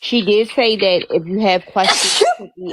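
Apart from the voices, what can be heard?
sneeze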